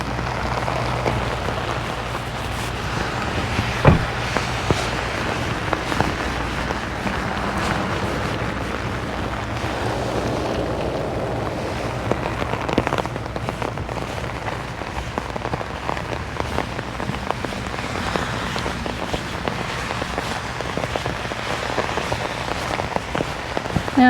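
Steady rain falls outdoors over a yard where a dry well was installed for stormwater, a dense, constant hiss of drops hitting surfaces nearby with no talk.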